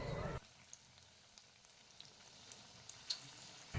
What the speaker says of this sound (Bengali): এবার ডিপ ফ্রাই করে নিলেই হয়ে যাবে আজকের রেসিপি ধনেপাতার পকোড়া।